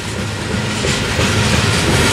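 Freight train led by locomotive CP 7012 rolls past close and loud near Tehachapi, a steady roar of wheels with rhythmic clickety-clack over the rail joints throughout.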